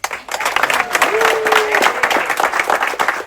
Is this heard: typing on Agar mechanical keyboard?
no